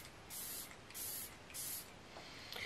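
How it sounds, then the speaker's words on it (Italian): Three quick hissing bursts from a Glow Recipe Watermelon Glow ultra-fine hydrating face mist being sprayed, evenly spaced about half a second apart, close and fairly soft, followed by a fainter fourth puff. "Ha una nebulizzazione finissima."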